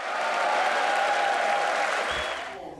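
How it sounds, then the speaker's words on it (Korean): A standing ovation from members of the US Congress at a joint session address, sustained dense applause from a large chamber crowd that tapers off near the end. "미국 상하원 의원의 기립박수 속에 연단에 오른"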